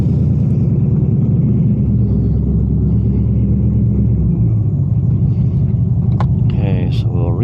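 A 2002 Chevrolet Camaro SS with 3.90 gears on a 0-60 run, its engine a loud, continuous low rumble that holds steady throughout, heard from close by.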